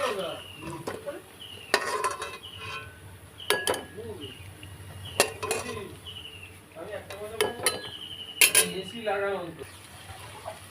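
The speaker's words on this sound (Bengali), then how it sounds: "আমি আর বাকি যেগুলো আছে সেগুলো আমি ভেজে নিচ্ছি।" Gaja sweets frying in a pan and being lifted out one by one, with clinks and scrapes of a utensil against the pan over a soft sizzle, while someone talks throughout.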